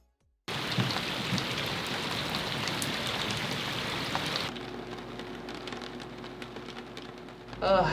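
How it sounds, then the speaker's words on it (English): Rain drums steadily on a Nordhavn 43 trawler, a dense close patter that drops abruptly to a lighter, quieter fall halfway through, with a faint hum underneath. "It's supposed to rain like this for the next 2+ weeks"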